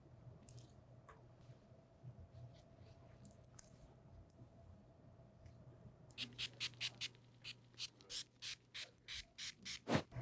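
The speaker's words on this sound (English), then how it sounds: "I'm going to spray this off to stop the processing on the ends and mid-shaft of her hair" A handheld sprayer rinses bleach from a woman's hair during a salon colour service, starting as a faint hiss and then becoming a run of short, loud, rhythmic spray bursts close by.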